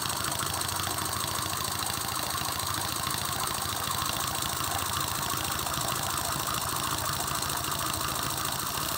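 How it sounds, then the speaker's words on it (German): A two-cylinder steam engine running on steam at 0.5 bar, giving a steady, close mechanical chugging and knocking that holds at an even pace throughout without any talk. "Man sieht schon, dass der Motor natürlich wesentlich höher dreht."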